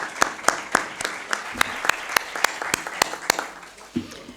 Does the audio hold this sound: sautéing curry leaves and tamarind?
no